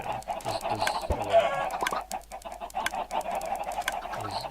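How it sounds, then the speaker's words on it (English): Chickens cluck steadily in a video game base crowded with a huge number of birds, a dense overlapping chorus of clucks and squawks that holds moderately loud throughout without pause. "There's a stupid number of chickens there."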